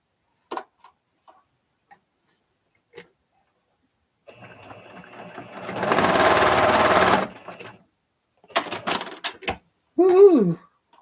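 A sewing machine stitches a seam in a short whirring burst of a second or so after scattered clicks and handling noises, close and clear, followed by a few taps and a brief voice.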